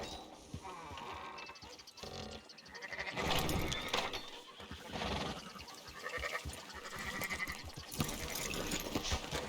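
Sheep bleat repeatedly in the video game Red Dead Redemption 2, with several overlapping wavering calls rising and falling over a busy background of other game sounds.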